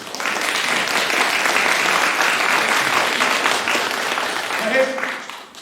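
A crowd at a song festival performance applauds, a broad sustained roar of clapping with voices mixed in, fading at the end as a short vocal sound rises.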